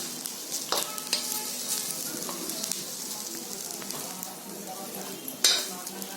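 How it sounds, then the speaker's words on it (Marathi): Masala spices roasting in a pan for a Konkani vajri dish, giving a continuous dry sizzle with repeated stirring and scraping strokes and a sharp clink of utensil on metal near the end. "मसाला बघा एकदम छान भाजला आहे"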